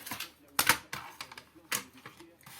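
Small paper trimmer (massicot) slicing a strip of paper, with a few short crisp snaps and scraping cuts close by and quiet movement in between.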